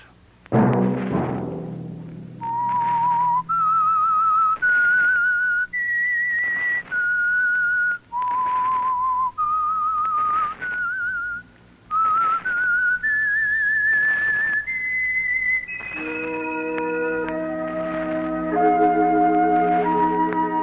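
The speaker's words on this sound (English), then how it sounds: "Let that whistle be your signal for the Signal Oil program, The Whistler, each Sunday night at this same time." The whistled theme tune of The Whistler radio program, a lone human whistler carrying a slow, eerie melody of sustained rising and falling notes with brief pauses, ending as orchestral chords swell in.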